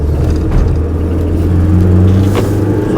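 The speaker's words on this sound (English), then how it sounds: "So I'm just sliding into 2nd gear," A 1994 VW T4 Holdsworth campervan drives along with a loud, close engine drone and low rumble from inside the cabin, the pitch holding steady and then shifting slightly as it moves through a gear change.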